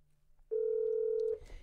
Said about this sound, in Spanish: Tenemos una pregunta de nuestros oyentes por teléfono.